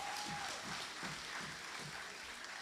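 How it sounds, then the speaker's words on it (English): Scattered applause from an audience at a special meeting, a steady wash of clapping heard from a distance, with a voice faintly present underneath. "give yourself a round of applause."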